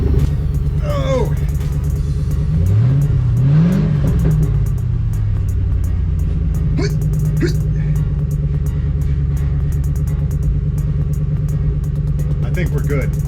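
A Crown Victoria race car rumbles loudly on an asphalt track, its engine note sweeping up and down while people talk over it almost throughout.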